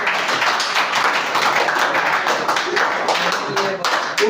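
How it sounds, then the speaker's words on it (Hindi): An audience claps for a group of children at a talk about quitting addiction, a steady round of applause with dense, brisk hand claps close by, running the full length without a break. "कम से कम इन बच्चों के लिए एक जोरदार ताली।"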